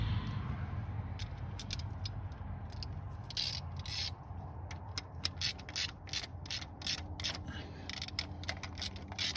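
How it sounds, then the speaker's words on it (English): A ratchet tightens bolts on the engine of a 1969 Buick Skylark barn find, giving rapid clicking bursts in quick repeated strokes, close and clear over a low background hum. "hit it with a ratchet"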